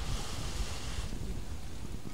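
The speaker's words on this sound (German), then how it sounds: "weil der Wind hier wirklich unfassbare Maßen angenommen hat" Strong wind buffets an outdoor football pitch during a training camp in Belek, a steady broadband roar of gusts and microphone wind noise with no talk.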